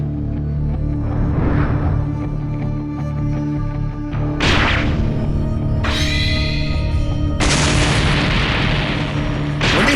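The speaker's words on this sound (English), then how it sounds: "When they feel the immense energy explosion below, trying to figure out what's going on down there, Piccolo points out" Huge energy explosion in the Dragon Ball Bloodlines anime, a series of loud booming bursts at roughly 4.5, 6 and 7.5 seconds over a constant rumbling background, the last one swelling into a sustained roar.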